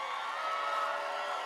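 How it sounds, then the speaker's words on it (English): An audience at the Hooters International Swimsuit Pageant applauds and cheers for the contestants, a steady, dense wash of clapping and crowd noise that holds evenly throughout without pause. "How about another round of applause for tonight's contestants?"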